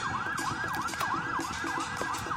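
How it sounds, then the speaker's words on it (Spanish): Police water cannon truck siren wailing in rapid, repeating up-and-down sweeps, loud and close, over street noise during an evening protest in the port city. "en la arremetida de un carro policial lanzaguas"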